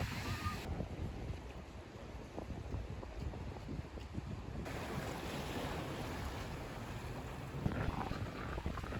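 Waves wash continuously onto a Marseille beach beside a pier, a broad steady roar of surf mixed with gusty wind buffeting the microphone, with no clear voices.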